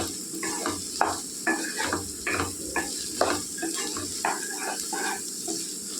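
Steady sizzling of chili powder frying in a hot pan for a raw banana curry, with a spoon stirring and scraping in a regular rhythm, close and fairly loud.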